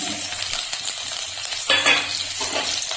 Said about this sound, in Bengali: আমার কড়াইতে এক চামচ মতন তেল গরম বসিয়েছি এখন আমি প্রথমে দিয়ে দিচ্ছি রসুন কুচি